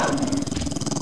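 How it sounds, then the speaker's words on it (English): Zombie dogs in the video game 7 Days to Die growl and snarl in a steady, rough rhythm, loud and close, with no talking. "Oh shit, dogs!"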